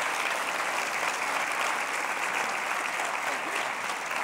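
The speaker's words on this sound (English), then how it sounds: "let's have another round of applause for our panel." Sustained applause from an audience at an aerospace industry conference panel on commercial crew spacecraft, a dense, even wash of clapping at moderate, slightly distant level with no pauses.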